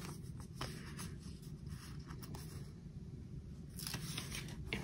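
Scissors cutting paper for a disc-bound planner: soft, close crisp snips and a rustling slide of blades through sheets, steady over a low room hum with a few small handling clicks.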